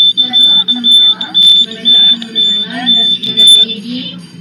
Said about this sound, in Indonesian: di sini buzzer akan menyala